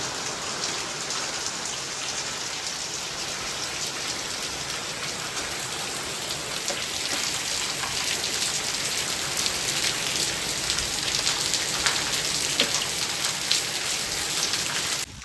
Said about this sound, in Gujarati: જો આ કમોસમી વરસાદ કેવો પડ્યો જો ઝાપટું જબરજસ્ત પડી